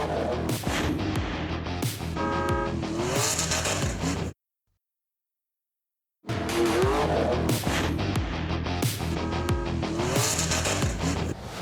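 A small Suzuki 4-cylinder 4x4 truck at an extreme off-road challenge, engine roaring loud and close with revving and gear changes, then a two-second dead silence before the engine noise returns.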